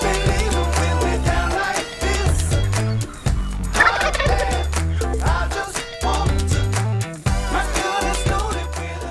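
A wild turkey gobbler gobbles near hunting decoys in Oklahoma or Kansas, amid a busy, continuous layer of loud music that plays throughout, the calls partly buried in the mix.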